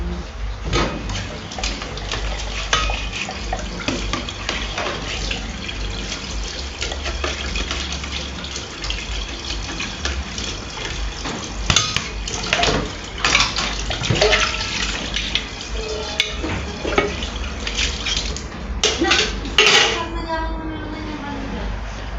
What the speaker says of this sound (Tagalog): busy tayo ngayon kaya maghugas-hugas muna tayo lahat dito